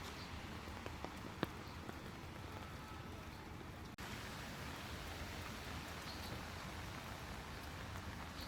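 Steady rain falling during a typhoon in China, a dense even hiss of drops on surfaces, moderately distant and unbroken, with a single sharp tap partway through.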